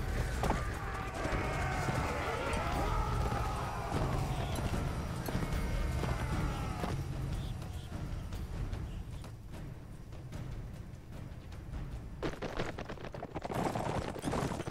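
Horse hooves galloping in the Warband mod Warsword Conquest, a steady rhythmic clip-clop running throughout amid battle clamor, with brief whinnies and distant clashing and shots behind it.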